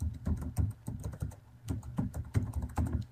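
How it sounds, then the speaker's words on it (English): Close, quick typing on a computer keyboard: rapid, uneven key clicks in short bursts with a brief pause in the middle, quiet and without voices. "I'm going to type this in"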